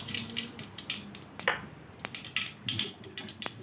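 Mustard seeds splutter and pop in hot oil in a kadai, a scattered series of sharp crackles and small bursts over a steady low sizzle, fairly close.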